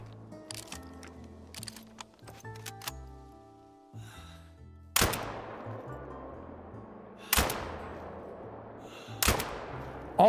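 Rifle shots ring out while hunting red grouse in the Call of the Wild video game, three loud sharp cracks spaced a couple of seconds apart, each with a decaying echo tail, following quieter clicking and handling sounds.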